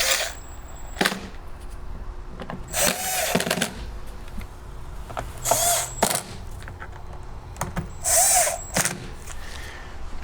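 A power driver tightens bolts on a generator head in short separate bursts, several quick whirring runs with quiet gaps and small clanks of handling between them, close up.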